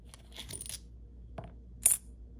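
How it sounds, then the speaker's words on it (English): A single bright metallic clink of a silver quarter rings out near the end as a coin roll is opened, preceded by soft rustling and handling noises, with no talking. "You could hear the silver cling when I rolled it open"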